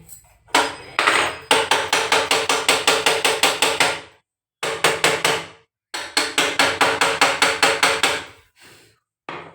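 Repeated knocking on a faltering gas stove in a home kitchen, loud rapid bursts of hard taps in several runs separated by short pauses, with no talking.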